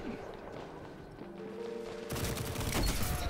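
Sniper rifle fire from Destiny 2 PvP with the Whisper of the Worm: a loud, sharp broadband shot breaks in partway through and leaves a dense, booming tail over quieter game ambience.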